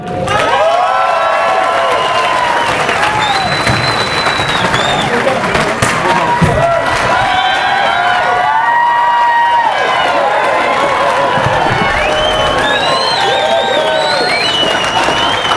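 A large political rally crowd cheers, whistles and applauds continuously as a congressman is welcomed, a loud, sustained roar with shouting voices layered throughout.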